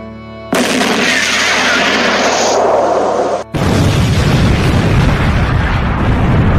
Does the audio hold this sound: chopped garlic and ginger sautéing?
no